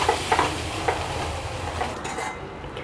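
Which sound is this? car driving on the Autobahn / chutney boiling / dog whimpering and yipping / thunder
chutney boiling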